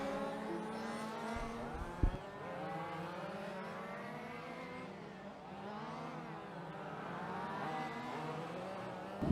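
Large-scale radio-controlled race cars in a national final pass along the track, their high whining motors rising and falling over several seconds at moderate distance, with a brief knock partway through.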